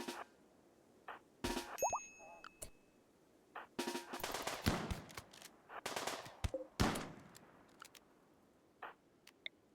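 Gunfire in the video game RimWorld: scattered sharp shots and short bursts crack out at irregular intervals, some louder and closer, with quiet gaps between volleys.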